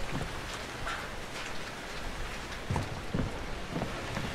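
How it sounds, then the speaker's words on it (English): Rain falls steadily in the Outlast II video game, a soft, even hiss of drops on surfaces with a few slightly heavier patters, quiet and without talking. "it's raining blood now"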